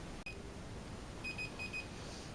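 A short electronic oven timer beeps several times in quick succession, thin and high, after a brief click in an otherwise quiet room.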